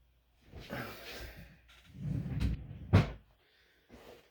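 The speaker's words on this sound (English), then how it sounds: "we will, as always, get it tucked into the drawer here" A drawer slides open and shut nearby, a couple of soft scraping rubs ending in a muffled thump, with no one talking.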